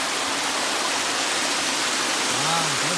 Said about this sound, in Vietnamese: Đó thấy được cái dòng suối này đặt dưới.